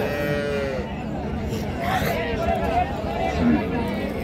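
A cow moos in long, drawn-out calls amid a busy cattle market crowd, with people chattering and talking nearby throughout.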